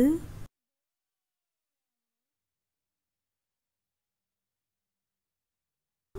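One short, clear cat meow sounds right at the start, followed by several seconds of complete silence.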